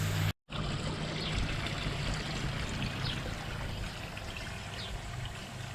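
Water pours steadily into a koi pond upflow filter as it tops up, a continuous close trickling rush that follows a brief dropout near the start.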